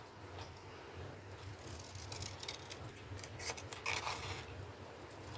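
Scissors cutting paper for a scrapbook album, a run of soft, close snips and rasping slides over a low steady hum, growing busier toward the middle.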